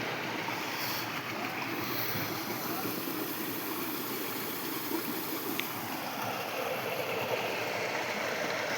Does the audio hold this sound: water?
yes